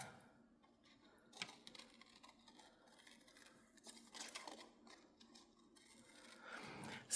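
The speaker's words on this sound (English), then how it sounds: "Should I cut an ornament out of it?" Scissors snip through a paper collage of ornaments, cutting out one ornament; quiet, intermittent close snips and paper rustles with no talking.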